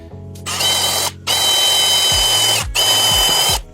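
A power drill bores holes into a wooden board for a garage fishing rod rack: three loud, close whirring bursts with short pauses, the motor winding down audibly at the end of each.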